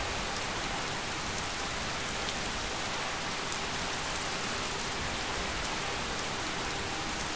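Loud rain in the video game Skyrim: a dense, constant hiss of heavy rainfall with no breaks, filling the whole stretch evenly and without any talking over it.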